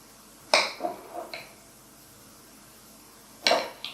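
A metal spoon clinks against a container while coconut flour is measured: a few bright clinks and light taps in a short cluster, a pause, then another sharp clink near the end, close by and fairly quiet.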